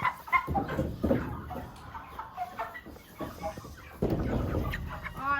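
A flock of about 26 small, homegrown meat chickens clucks and chatters close by in an uneven, busy stream, with brief louder squawks breaking through.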